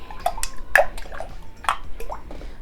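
Water and lime mixture poured into a container, heard as splashy, trickling pours and drips in short irregular bursts, close and fairly clear, with faint clinks.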